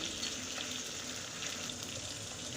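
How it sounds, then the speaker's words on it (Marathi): Chopped onion and tomato sauté in a pan over a low flame for upma. The sizzle is soft and even throughout, fairly faint, and nobody speaks. "टोमॅटो टोमॅटो पण छान असा याच्यामध्ये परतून घ्यायचा"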